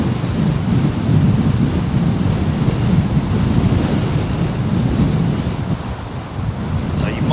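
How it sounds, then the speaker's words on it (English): Strong wind buffets a microphone on the rooftop at London Heathrow Airport, a dense, loud, continuous roar with gusty low rumbling throughout. "It's a lot windier up top here on the top of the roof than it is down on the ground."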